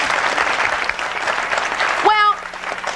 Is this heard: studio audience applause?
yes